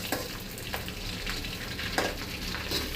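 Pieces of chicken fry in hot oil with a steady close-up sizzle and a few soft stirring knocks, heard alone for a few seconds.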